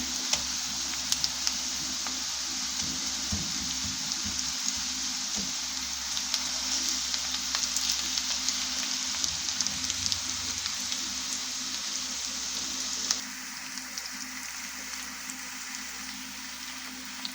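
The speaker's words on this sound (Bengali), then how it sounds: "আমি এখানে রসুন দিয়ে দিব এটা রসুন" Garlic frying in a pan for a mixed vegetable bhaji, a loud steady close sizzle with crackling pops that runs throughout and eases slightly toward the end; no talking.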